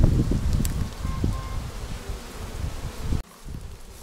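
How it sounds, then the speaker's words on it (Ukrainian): Honey bees buzzing inside a hive just after transport, a close, rough droning with rustling and knocks that drops suddenly near the end. "Не критично, бджоли не пострадали."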